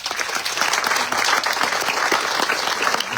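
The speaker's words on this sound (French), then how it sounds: "je vous demande de les applaudir très fort." Loud, dense applause from an outdoor audience greeting 28 running mates, fourteen men and fourteen women, at a local election slate presentation, steady and unbroken throughout.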